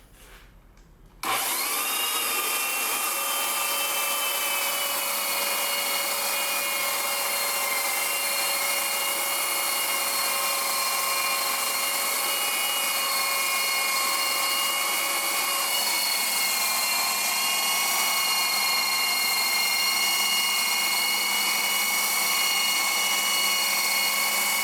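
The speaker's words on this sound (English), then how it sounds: "So let's go ahead and get started on the sanding." A power sander works across an Indian rosewood cookie, a cross-section slice of the trunk being prepared as an art piece. After a short quiet start it runs as a loud, steady whir and hiss up close for over twenty seconds.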